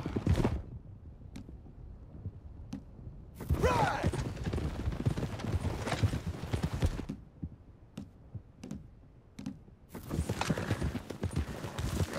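Horses clip-clop at a gallop in Red Dead Redemption 2, hooves pounding steadily and fairly close over a busy game soundscape, with short bursts of louder action between quieter stretches.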